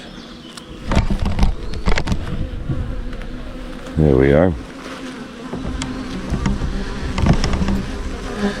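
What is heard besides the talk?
honey bees buzzing around hive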